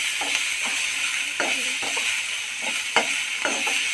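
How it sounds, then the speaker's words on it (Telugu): Vegetable pieces frying in a pan for homemade veg pasta give a steady, close sizzle, with intermittent scraping knocks from stirring every second or so. "ముక్కలు బాగా వేయించి"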